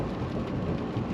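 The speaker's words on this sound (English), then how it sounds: "It's raining now." Steady broadband hiss of rain falling, continuous and even, with a low rumble underneath and no voices.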